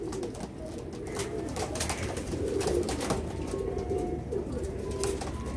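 Pigeons coo in a steady low murmur, several birds overlapping close by, with brief chirps and flutters scattered through the continuous soft cooing.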